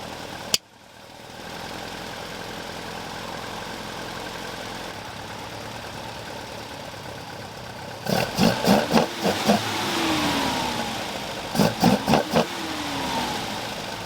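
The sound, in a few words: Opel Manta A 1971 engine idling and sputtering, dual carburettors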